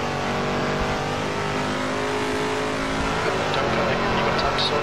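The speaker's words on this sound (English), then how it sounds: "This car just sounds like a beast of a car." Shelby 427 Cobra V8 engine in the racing game Assetto Corsa on the Vallelunga circuit, revving loud and steady throughout at high speed with a continuous roaring drone.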